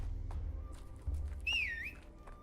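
A whistle rings out in the video game Pathologic 3, a single rising and falling whistled phrase over low ambient rumble and scattered faint taps.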